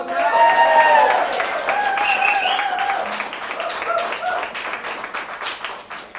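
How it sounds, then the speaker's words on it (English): An audience at a San Francisco science slam claps and cheers in a dense, loud burst that slowly thins out, with voices calling and chattering over the applause. "Applause"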